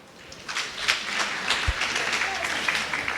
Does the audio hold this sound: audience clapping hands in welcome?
yes